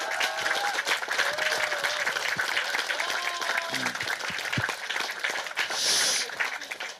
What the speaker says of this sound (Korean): 격려 박수 좀 부탁드립니다.